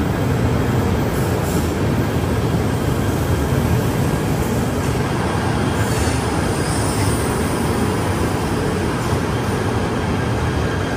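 A metro train runs on rails in Kuala Lumpur with a loud, continuous rumble and faint high wheel squeal throughout, and no one speaks.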